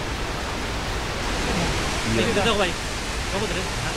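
Cameron Falls in Waterton, Canada, a broad, constant roar of rushing water, loud and steady, with a person briefly talking over it partway through.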